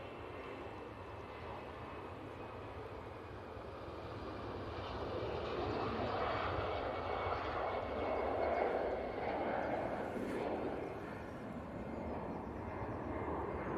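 Distant airliner engine noise at Manchester Airport as an Etihad jet departs, faint at first and swelling into a broad rumble midway before easing slightly, heard from far off.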